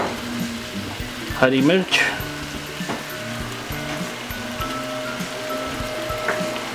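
Mutton and spinach fry in a pan as tomatoes are added, a steady crackling sizzle with a brief clatter, under a person talking.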